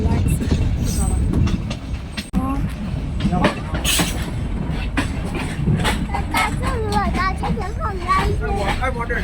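Rattling carriage noise from a Shan train travelling a hundred-year-old mountain railway toward Taunggyi, a continuous close rumble with a few thin squeals rising over it near the end.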